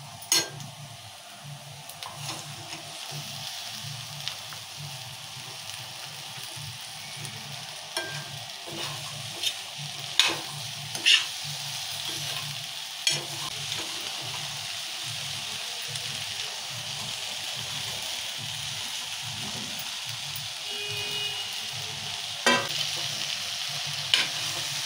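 Chopped okra fries in a pan with salt, a continuous close sizzle broken by repeated scraping stirs and light clinks of the utensil against the pan.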